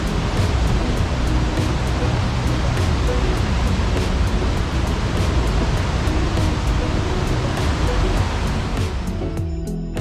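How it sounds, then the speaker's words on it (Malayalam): Water pours down continuously at the Dubai Water Canal, a loud, dense, steady rush of falling water like a waterfall, with no pause. "നമ്മളിപ്പോൾ ഈ വെള്ളം ഇങ്ങനെ വീഴുന്ന സമയത്ത്"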